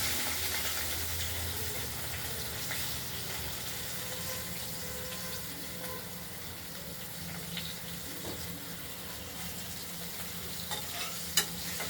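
Potatoes frying in a pan for a rohu fish curry, a soft, steady sizzle and crackle heard close but quiet, continuous for the whole stretch with a faint clink near the end.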